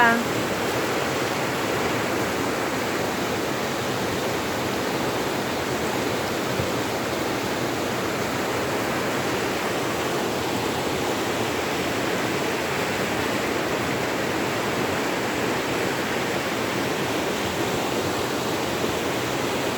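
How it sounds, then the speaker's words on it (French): A thawing river flows in a constant, full rush of water that stays loud and unbroken throughout, with someone speaking over it. "Je vais vous montrer la rivière."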